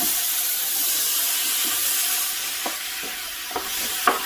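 Chopped vegetables sizzle and hiss in a hot gumbo roux, a steady close frying noise with occasional stirring scrapes and pops.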